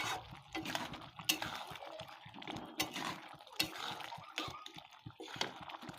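Fried eggs being stirred into a lentil curry in a pan, giving wet, sloppy scraping and splashing sounds in an irregular rhythm, close and fairly soft, with no talking.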